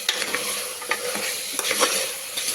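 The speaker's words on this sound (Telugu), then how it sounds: "ఒకసారి అంతా బాగా మిక్స్ చేసేసుకోవాలి" Mutton curry with fenugreek leaves and chilli powder being stirred in a pan, a spoon scraping in short irregular strokes over a steady sizzle, close and alone.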